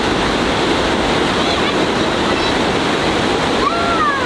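Rogue River water rushing out of a lava tube at Natural Bridge in Oregon's Rogue Gorge, a loud, steady, close roar of churning whitewater that fills the whole stretch without a break.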